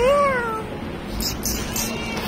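A cat lets out one loud, close meow with a rising-falling pitch, followed by a few soft clicks and rustles.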